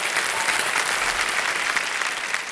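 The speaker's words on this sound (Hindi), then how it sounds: "बहुत बहुत स्वागत, तालियां बज जाए इनके लिए।" Studio audience applause on Kaun Banega Crorepati welcoming the Shark Tank guests, a thick, even wash of clapping from a large crowd that carries on steadily throughout.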